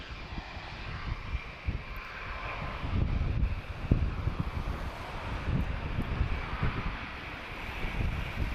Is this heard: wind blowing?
yes